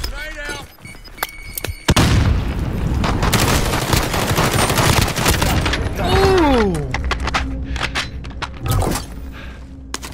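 Rapid gunfire in a gulag fight in a Call of Duty-style video game, bursts of automatic shots and sharp cracks filling most of the clip, with a voice talking excitedly over it.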